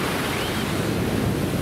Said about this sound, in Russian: Ух ты, волна большая.